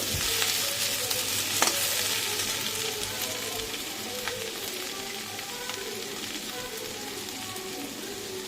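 Mukhi kochu (taro) curry sizzles in a pan, a dense, even hiss of hot oil with a few faint stirring clicks, close up and continuous without any voices.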